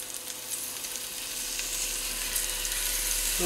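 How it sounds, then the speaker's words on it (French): Pieces of beef browning in a pan for a Provençal daube de boeuf, giving off a steady, dense sizzle that holds throughout with no talking. "on va faire revenir euh, nos morceaux de viande"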